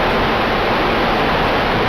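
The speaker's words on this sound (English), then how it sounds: "such as this waterfall that sounds like it was mixed by Christopher Nolan." A waterfall in an original Xbox RPG roars as a loud, dense, unbroken wash of noise, heavily mixed and filling the whole soundscape for the full two seconds.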